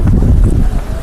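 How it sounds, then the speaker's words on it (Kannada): Strong wind buffets a hilltop at Nandi Hills near Bengaluru, a loud, continuous rumbling roar pressing on the microphone throughout. "ಇಲ್ಲಿ ಗಾಳಿ ನೋಡ್ರಿ ಗಾಳಿ"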